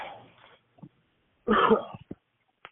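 Two short, rough coughing bursts close to the listener, the second one louder, with small clicks and quiet gaps between them.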